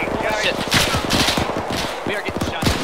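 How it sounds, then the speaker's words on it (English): Rapid automatic gunfire in Arma 3 Iron Front, a World War II manor assault, with dense bursts of close shots rattling continuously for several seconds under heavy battle noise and brief talk. "We are getting shot down here"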